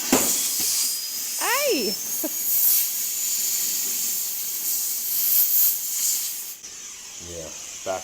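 A cutting torch hisses steadily and loudly while cutting metal on a custom cab-over truck build, then the flame backfires and cuts off abruptly. A person shouts briefly and voices are heard.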